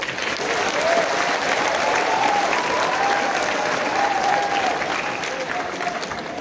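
Loud, sustained applause from a large crowd of seafarer graduates at a 2023 graduation ceremony at PICC, a steady dense roar of clapping with faint cheering tones riding over it throughout.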